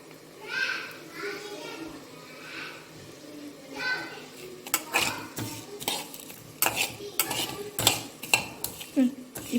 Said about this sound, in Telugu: సో ధనియాలు, మిరియాలు, జీలకర్ర మనం ఇప్పుడు డ్రై ఫ్రై చేస్తాం అన్నమాట.